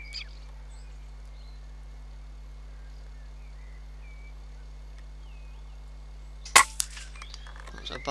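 A single sharp air rifle shot cracks out near the end during an outdoor rabbit hunt in May, following a long quiet stretch of faint birdsong and steady low hum, with a few small knocks after.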